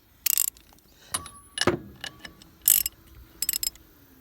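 Ratchet wrench clicking while installing a FASS fuel system on a 2005-2007 Ford F-250, heard as several short bursts of quick, close metallic clicks separated by brief pauses, with no talking.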